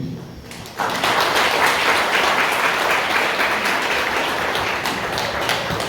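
A church congregation at a large annual conference applauds to welcome a pastor, with sustained, dense clapping that starts abruptly and continues steadily, loud and full, after a brief spoken lead-in.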